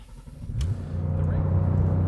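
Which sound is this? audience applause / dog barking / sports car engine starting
sports car engine starting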